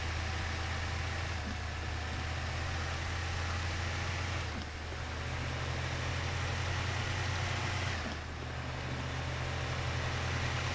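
A Kei truck in a video game, its small engine idling steadily with a low rumbling drone and faint mechanical hum, nearby and even, with brief dips and shifts in tone around two points, no voices.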